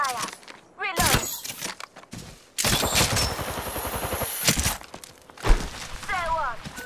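Gunfire in Apex Legends, loud repeated bursts of automatic shots with a dense stretch in the middle, mixed with footsteps, impacts and game voice callouts.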